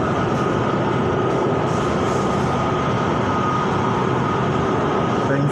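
Riding the BTS Green Line skytrain in Bangkok from Khu Khot to Mo Chit, a continuous loud rolling rumble of the railcar fills the cabin, with a steady wheel-on-rail roar throughout.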